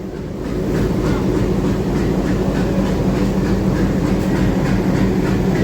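An Alco WDM3A diesel locomotive pulls a train into a platform, its steady heavy rumble and rolling wheel noise loud and continuous throughout, with no talk.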